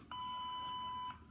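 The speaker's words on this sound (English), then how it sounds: "Please leave your name and phone number after the beep." An answering machine sounds its voicemail beep, a single clean electronic tone about a second long, faint and alone against quiet line hiss.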